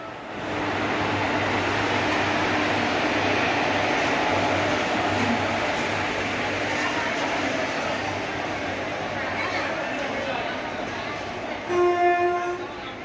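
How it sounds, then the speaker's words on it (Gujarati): Gandhinagar to Veraval Intercity Express passing close by, a loud steady roar of rolling wagons and rail noise for most of its length, ending with a brief horn blast. "ઇન્ટરસિટી એક્સપ્રેસ ગાંધીનગરથી વેરાવાડ one nine one one nine"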